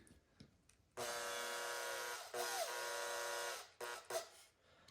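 Power driver whirring steadily as screws are driven into cedar boards of an Adirondack chair kit, a sustained motor buzz with a short pause and shifting pitch, then brief stop-start bursts near the end.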